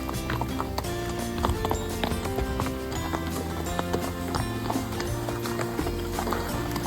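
Horse hooves clip-clop steadily beneath a Missouri Fox Trotter gelding on a group trail ride through the Ozark Mountains, with other horses nearby and continuous close, busy rhythm throughout.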